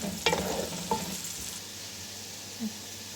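Onions sizzle and crackle steadily in a hot pan as they turn light golden, with a few scraping stirs near the start before the frying settles to a soft hiss.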